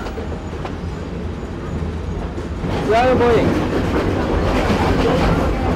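Steady rumble of a train rolling on rails, heard from inside a passenger carriage in Sri Lanka, with continuous low clatter throughout and people talking over it.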